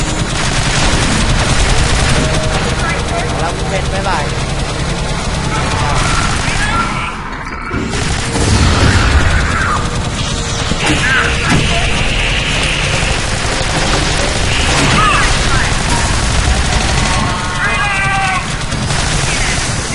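Rapid weapon fire from the Alien Swarm video game runs dense and loud throughout, with bursts, blasts and effects piled over each other while players talk excitedly over the top.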